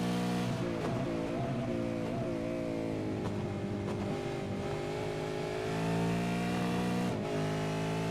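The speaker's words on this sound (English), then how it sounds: "the sound that the car makes when you're coming up a hill" A V8 race car climbs a hill on the Road America circuit, its engine droning loud and steady with slight pitch shifts as it pulls. Wind noise rushes past throughout.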